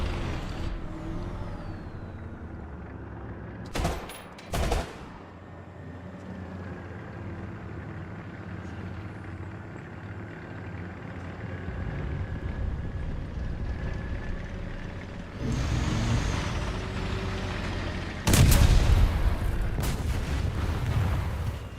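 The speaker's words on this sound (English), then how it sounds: "That's definitely a bomb." Bomb explosions in a video game: sharp, loud booms around the four-second mark, then heavier blasts after fifteen and eighteen seconds over a constant low rumble of game noise.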